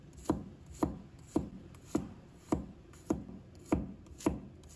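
A knife slices garlic cloves on a cutting board in nine or so steady, evenly spaced chops, each a close, crisp thunk against the wood, with no voices.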